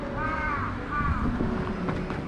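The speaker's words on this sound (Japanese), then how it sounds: "ずいぶんリズミカルなカラスだね。" A crow gives two harsh caws close by, outdoors with light wind noise.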